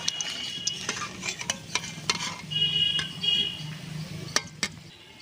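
Rice fries and is stirred in a pan for a village pitha recipe, making a steady sizzle broken by repeated sharp scraping clinks of the spoon against the pan, close up and with no talking.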